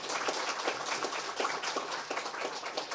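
Audience applause for panelists at the close of a live-streamed morning discussion session, a dense, even patter of many hands clapping at moderate distance, fairly soft and without speech.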